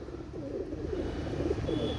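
Pigeons with bold red eyes cooing softly and steadily, a low murmuring coo repeating close by for the whole stretch.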